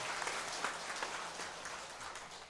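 A church congregation applauds after the choir's hymn during a Sunday worship service, producing a steady, fairly faint wash of clapping that continues evenly throughout.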